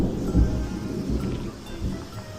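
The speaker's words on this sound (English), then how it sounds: "I feel the rain." Steady rain pours down during a storm at a marina, a dense loud wash with low thunder-like rumbles swelling beneath it and no voices.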